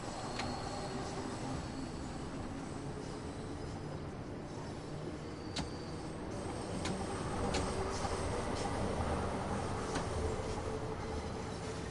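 London Underground Bakerloo Line train in the Train Sim World 2 video game, a continuous loud rumble of wheels on track with faint squeals and occasional sharp rail clicks, no talking.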